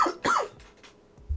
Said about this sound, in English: I feel like I'm coughing up plastic.